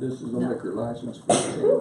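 A single sharp sneeze bursts out midway through a county commissioners' meeting, loud and close, with people talking before and after it.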